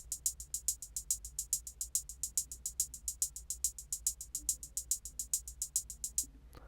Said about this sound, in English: with these hi-hats, I have got them set to a triplet pattern, so it sounds like this.